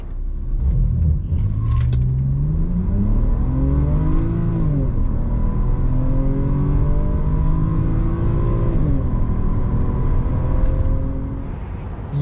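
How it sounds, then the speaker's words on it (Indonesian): A 2008 BMW 630i accelerates hard from 0 to 100 km/h, its engine note climbing through several gear changes with rising whine and steady rumble, loud and close throughout without talk. "Kita lihat akselerasinya."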